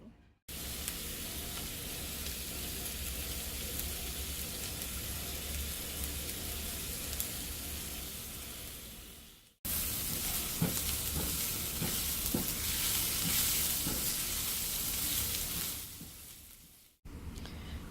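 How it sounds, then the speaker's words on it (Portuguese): Onion sautéing in olive oil, a loud steady sizzle and crackle close by, in two long stretches split by brief cuts to silence, with occasional stirring scrapes and no talking. "Eu estou refogando cebola no azeite."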